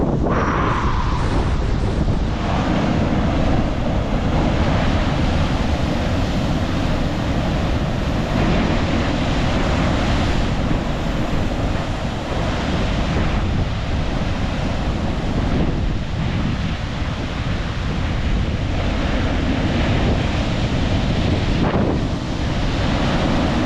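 Giant ocean waves crashing and surging continuously on a Moroccan beach, a loud, dense roar with heavy wind buffeting the microphone throughout and no voices.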